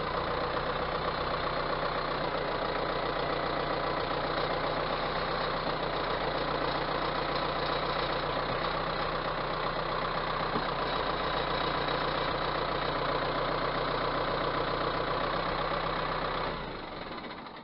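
A small 4600 tractor engine running steadily at idle, a loud, continuous mid-low rumble with faint knocking that holds evenly for about sixteen seconds before cutting off near the end.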